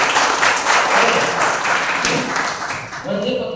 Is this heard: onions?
no